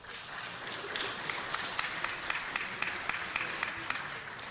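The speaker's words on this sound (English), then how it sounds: "Let's give him one more round of applause" Sustained audience applause fills a city council meeting chamber, a dense steady wash of many hands clapping at even loudness, with a few sharper claps standing out and no talk over it.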